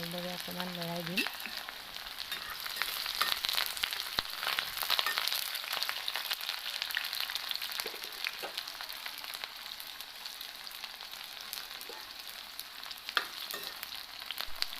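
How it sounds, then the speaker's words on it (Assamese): Chopped onions fry in hot mustard oil in a wok, a steady dense sizzle with scattered crackles and occasional stirring scrapes throughout; a brief tonal sound opens it. "এতিয়া এখন কেৰাহীত ভালদৰে মিঠাতেল গৰম হ'বলৈ দি তাত দিছোঁ মই কাটি লোৱা পিঁয়াজখিনি"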